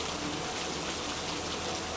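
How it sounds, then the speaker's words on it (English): Steady, soft rainfall patters evenly throughout, a gentle misting rain with no distinct drops or voices, forming a continuous hushed wash. "notice the rain lightening just a bit. transforming from a great deluge into a gentle, misting rainfall"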